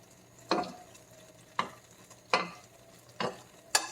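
Sauce is stirred in a pan on medium heat as it comes up to a simmer. Five distinct spoon scrapes sound at roughly even intervals over a quiet, faint sizzle.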